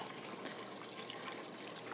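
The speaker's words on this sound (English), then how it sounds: "Now I'm going to water this all in with my organic Rev" Water mixed with organic Rev fertilizer poured onto freshly transplanted plants in recycled flower boxes on a small back deck, a faint, steady trickle and splash soaking into soil, heard alone at close range.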